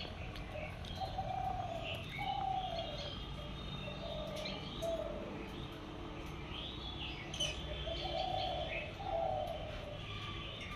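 Birds in a newly built farm colony coo softly in short repeated phrases, spaced a few seconds apart, mixed with light chirps over a quiet background.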